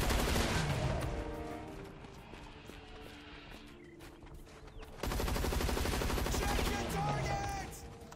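Rapid, continuous gunfire from a co-op shooter game, dense bursts running the whole time and growing louder midway, mixed with game sounds and a voice talking.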